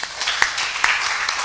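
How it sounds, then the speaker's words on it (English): Brief audience applause at a devotional lecture welcoming first-time visitors, a short burst of mixed clapping from a modest crowd with a few distinct sharp claps. "round of applause."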